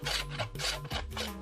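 Hand filing of seasoned wood for a tanpura, a rasping stroke repeated about three times in even rhythm, close and loud with no voices.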